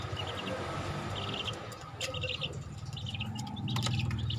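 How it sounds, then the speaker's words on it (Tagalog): A young lemon hatch chick, sired by a golden boy rooster, gives faint, high, repeated peeping chirps over a low background hum. "Ito po ang sisiw."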